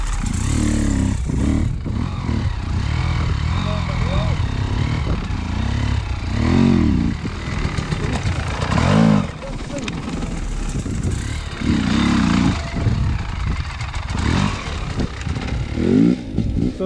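An enduro motorcycle engine revs and surges as the rider lifts into a wheelie, with loud, uneven throttle bursts, clattering and mechanical noise close by, mixed with wind and a voice talking.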